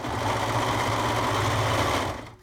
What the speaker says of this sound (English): do not stretch out your fabric as you serge